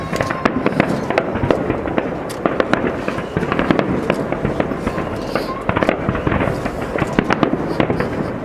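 Fireworks display at Yeosu in 2019, a dense continuous barrage of loud bangs and crackling bursts from near and far, with voices of spectators talking faintly underneath.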